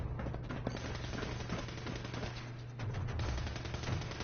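Sustained automatic gunfire rattles without a break in Fallout 4, a video game, as a dense, loud stream of rapid shots that is close and continuous, with no talking over it.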